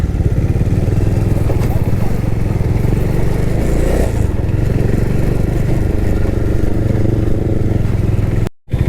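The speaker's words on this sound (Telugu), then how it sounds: "చూడండి వెళ్తున్నాయి, 3 బైక్స్ వెళ్ళిపోయినాయి ఆల్రెడీ" Several motorcycles ride off together on a road toward a hidden sunrise spot near Hyderabad, their engines rumbling loud and close in a continuous drone with wind buffeting and rattling throughout.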